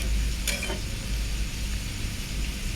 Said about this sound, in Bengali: এই যে এখানে আলু ঝিরি ঝিরি করে কাটা, আমি এটা ব্রাউন কালার করব ভেজে